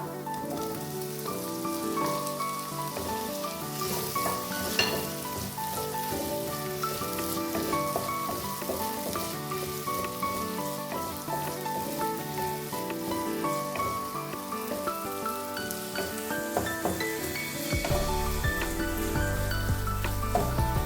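Chopped tomatoes frying with onion, shallots and ginger in a hot pan give a continuous soft sizzle, like light rain, running under steady background music.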